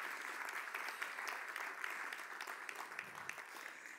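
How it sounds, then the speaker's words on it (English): Audience applause at a Scratch Conference Europe talk, steady dense clapping from a crowd filling the whole stretch at an even, moderate level, heard alone without voices. "let's give him a big round of applause."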